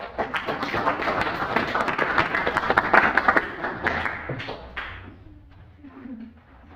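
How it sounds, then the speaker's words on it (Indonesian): A classroom of students applauds during a teacher-training lesson, brisk overlapping claps building to a peak and then tapering off into a few scattered claps, with some voices murmuring underneath. "Tepuk tangan bagi"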